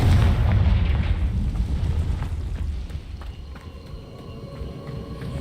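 Heavy explosive blast from the Confringo spell in Hogwarts Legacy, a loud booming burst at the start that rolls off into a rumbling tail with scattered crackles.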